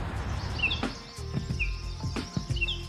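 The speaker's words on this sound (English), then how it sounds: "You can hear birds singing." Birds sing in short, bright chirps spaced every second or so over a low outdoor background rumble, with occasional soft knocks between calls.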